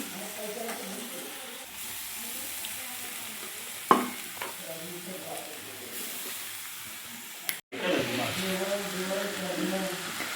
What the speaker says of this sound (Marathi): हे बघा आता ही मिक्स केली होती ना ती परतली आहे मी चांगली